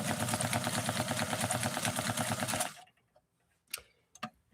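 A New Home Model 444 sewing machine runs a maximum-width zigzag stitch with a fast, steady mechanical chatter for nearly three seconds, then stops, leaving a few faint clicks and knocks.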